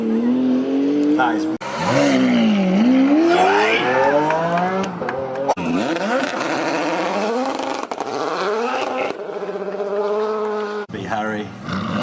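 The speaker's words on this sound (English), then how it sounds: "those cars blasting up the hill" Race cars accelerating hard up a hill climb course at a concours event, engines roaring loudly with rising and falling revs across several passes, voices talking over the noise.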